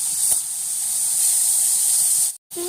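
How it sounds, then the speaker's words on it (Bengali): Cabbage with salt and turmeric stir-frying in a pan, giving a steady, close, bright hiss of sizzling that runs unbroken for a couple of seconds, then cuts out briefly and returns. "বাঁধাকপি, দিয়ে দিলাম সামান্য লবণ, দিয়ে দিলাম সামান্য হলুদ, কিছুক্ষণ না 5 মিনিট মতো একটু নাড়াচাড়া করে নেবো"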